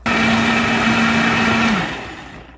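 A blender grinds cooked rice into paste for cabbage kimchi, a loud steady whirring motor that runs evenly and then winds down and stops near the end.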